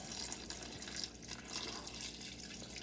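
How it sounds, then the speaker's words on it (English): Four cups of water poured into a pan of cube steak gravy, a steady liquid splashing and running sound that stays continuous and fairly faint throughout. "And then you're going to add the water."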